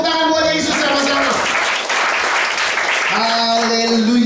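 A church congregation applauds together during a sermon about Christ's resurrection. The clapping swells under loud, sustained singing or chanting voices and a musical backing, filling the room continuously.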